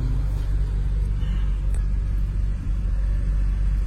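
Deep steady low rumble of a Porsche V8 engine heard from inside a moving car, continuous road drone with no talk.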